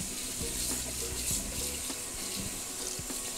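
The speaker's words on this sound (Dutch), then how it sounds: "En ik doe even met een koud water even omspoelen." Cold water runs from a kitchen tap to rinse freshly drained cooking, a steady splashing stream into the sink with faint knocks underneath and no talk.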